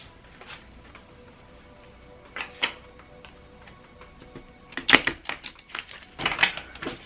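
Short bursts of tarot cards riffling and tapping together, several quick shuffles close up with pauses between, louder toward the end.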